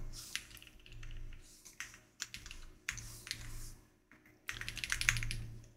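Clacking computer-keyboard typing in several quick bursts separated by short pauses, close and clear, with no voices.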